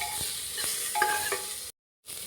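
Ginger garlic is stirred in a sizzling pan while preparing carrot and tomato soup, with a few close scraping taps over the hiss before the sound cuts off briefly.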